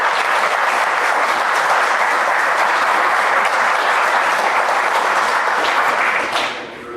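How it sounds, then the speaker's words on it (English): Steady audience applause at a Rescue Inc consortium meeting, a dense, even wash of many hands clapping close by for several seconds before tapering off at the end. "So maybe a quick round of applause for Vern and the work that he did"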